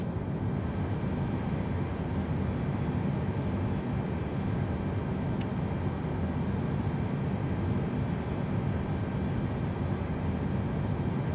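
Airliner engine spooling up during start in Microsoft Flight Simulator, a steady dense roar with a faint whine, constant in level throughout with no talk over it.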